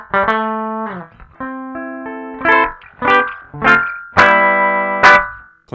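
An electric guitar runs through an Ibanez ADMINI analog delay pedal set to its shortest delay, giving loud, slightly gritty single notes and chords whose repeats crowd in close and blur together as a thickened smear.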